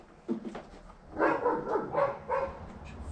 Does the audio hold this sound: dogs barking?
yes